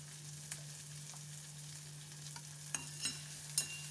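Onions cooking with ginger-garlic paste, turmeric and chili powder give off a faint, steady low sizzle in a pan, with a few soft scrapes and taps of a stirring spoon near the end.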